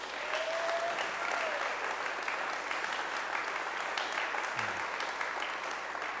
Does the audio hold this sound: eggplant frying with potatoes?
no